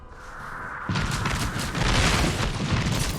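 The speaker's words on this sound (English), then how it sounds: "What does artillery sound like?" Artillery strike explosions in the Apex Legends video game, several heavy booms and bursts that come close together and build into a sustained, rumbling barrage.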